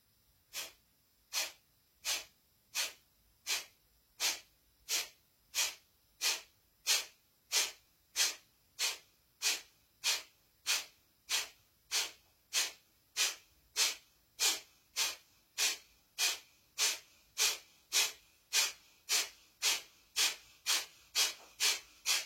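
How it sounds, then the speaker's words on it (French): Rapid, rhythmic breathing during a yoga exercise, some thirty sharp breathy puffs in a steady, slightly quickening pulse, close and clear with no talking. "vous pouvez accélérer un petit peu la respiration"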